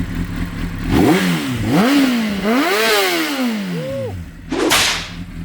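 A Honda CBR600RR sport bike engine revs hard several times, loud and close, its pitch climbing and falling in rapid sweeps before a final sharp blip, with no talking.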